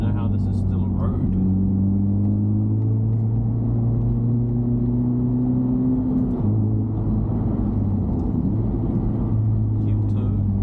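A Honda CR-Z on a twisting mountain road, its engine a steady low drone whose pitch dips and rises as the driver heel-toes and trail-brakes through the bends, with faint talk over it.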